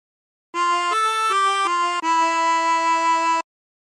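Harmonica playing a short phrase of a song: five clear sustained notes alone, the first four brief and stepping up and down, the last held longer, with no talking.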